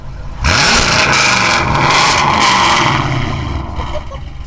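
Chevrolet Camaro with an X-pipe exhaust and open valves revving nearby: a loud, deep engine roar rises sharply and holds for several seconds, then eases off slightly toward the end.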